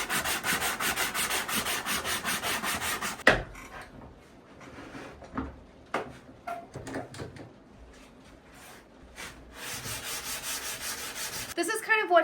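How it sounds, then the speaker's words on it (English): Wooden table being sanded on an off-grid custom build, a steady close abrasive rubbing that runs, breaks into scattered scrapes and knocks, then resumes loud and continuous. "A lot of sanding, but that's how you end up with a nice finished product."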